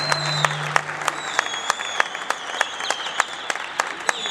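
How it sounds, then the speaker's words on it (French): An audience applauds a Tunisian poet at an evening stage event, a fairly faint steady clapping with sharp individual claps standing out, plus a brief tone early on. "un grand applaudissement sur le poète tunisien Selim Marakchi"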